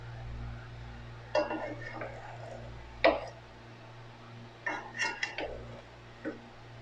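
Hyderabadi chicken dum biryani rice being served from the pot, with a few scattered scraping and clinking metal utensil sounds against cookware over a quiet hum, sparse and moderately close.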